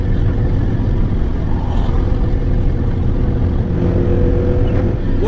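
An old Ford Transit truck cruises on the road, its cabin filled with a loud, steady engine drone and road noise that holds constant with no talking.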